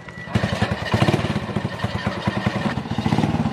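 A motorcycle that has just been worked on runs close by with a chugging, pulsing idle and uneven loudness, the beat speeding up and easing off across the few seconds.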